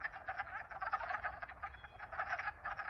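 A chorus of many wood frogs calling from a wetland, a dense continuous clucking croak with overlapping voices, steady and moderately distant, no talk.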